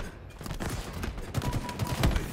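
Mangler pistol shots in Halo Infinite ranked multiplayer mix into dense, chaotic gunfire. Rapid overlapping cracks and booms fill the short stretch, loud and close, with heavier hits near the end.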